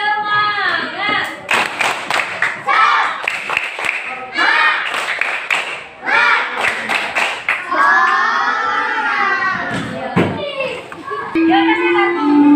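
Schoolchildren in an Indonesian classroom perform the "tepuk semangat" clapping chant, sharp bursts of rhythmic group claps alternating with loud chanted voices, close and lively, with a teacher's voice joining in.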